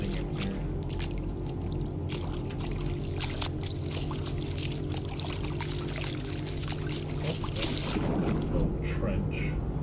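A character wades and splashes through shallow water in the video game No Man's Sky, with steady sloshing and pouring water sounds running throughout while a person talks over it.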